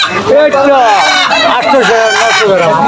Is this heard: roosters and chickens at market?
yes